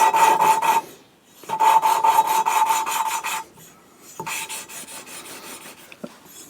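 A valve grinding stick turns a valve back and forth against its seat in a cylinder head, a steady rasping, grinding scrape in strokes, pausing briefly between bursts, close up and fairly loud with no talking.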